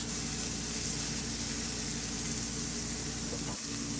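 Chopped onion and tomato frying in a pan for a Filipino tofu dish, giving a steady, even sizzle that holds close and constant throughout with no talking.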